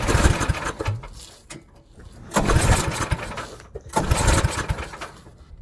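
A snowblower engine roars at full throttle in surges, loud and close, swelling and dropping back as it labors between bursts, with no talk over it.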